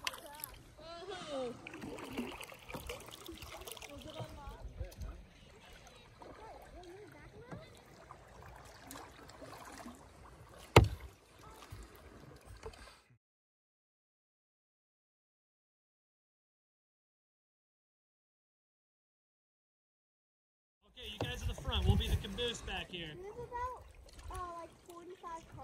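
Paddle strokes and light water splashes from a small boat on the Deschutes River at dusk, faint and intermittent under a person talking, broken by a stretch of silence before the splashing and talk resume.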